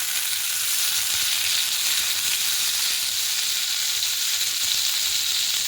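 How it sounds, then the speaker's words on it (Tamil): Butter sizzles on a hot dosa griddle with a loud, steady hiss that holds without break, with no voices. "தோசைக்கல் வச்சுருக்குறேங்க. அதை வந்து பட்டர் போட்டுக்கலாம்."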